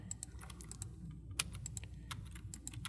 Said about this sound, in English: I will type alias1.